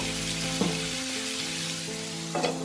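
Tandoori chicken pieces sizzling on a small grill pan over high flame, a continuous close frying crackle with a steady tonal hum beneath and a couple of brief scraping stirs, no voices.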